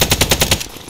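Rapid machine gun fire in a first-person shooter match, about six close, loud bursts in a steady rhythm that cut off abruptly, leaving quieter game ambience.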